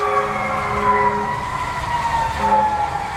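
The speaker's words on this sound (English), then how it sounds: "Now you can hear the sirens." Sirens wail in the distance, their pitch slowly rising and falling over a steady background hum.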